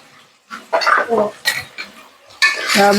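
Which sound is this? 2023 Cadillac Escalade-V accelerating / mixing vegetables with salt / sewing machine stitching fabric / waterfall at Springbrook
mixing vegetables with salt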